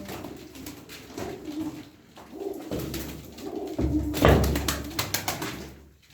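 Tumbler pigeons coo repeatedly at close range inside a coop, with soft wing flutters and occasional taps and thumps around them.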